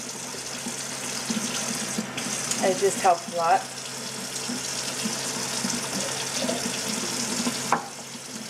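Tap water runs steadily into a glass, a continuous hiss with bubbly gurgles midway, while a person talks over it.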